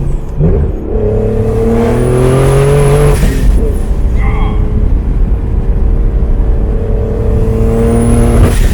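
Turbocharged BMW E36 accelerating at half throttle, heard from inside the car: a loud rising engine note climbing through gears with turbo whine and a brief shift dip, steady and close throughout.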